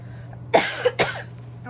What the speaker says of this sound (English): I've been coughing like crazy